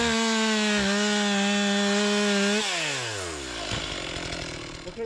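A chainsaw cutting aged, dry firewood logs outdoors in Alaska, loud and close, with a steady high engine whine that bogs down and then winds down as the cut finishes.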